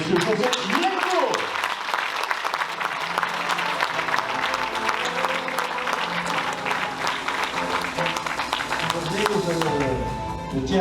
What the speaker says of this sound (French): Mesdames et messieurs, je voudrais des applaudissements nourris pour monsieur Joseph Lienko